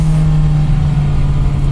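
A Kawasaki motorcycle engine pulls in second gear on a winding downhill road, a steady close, loud drone with a strong low hum, no talk.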